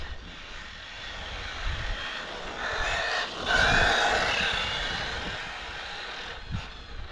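A VS2 car warms its tyres on a damp, foggy track. A continuous engine roar swells to a louder peak midway, then eases back down, heard from a short distance.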